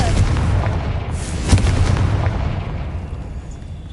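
A Confringo explosion spell goes off in Hogwarts Legacy, a single boom cracking out mid-way over a dense, rumbling game soundscape that slowly fades.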